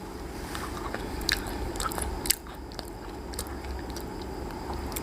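Close, crisp crunches of Oreo cookies being bitten and chewed for ASMR, a few sharp bites among softer steady chewing, with no talk.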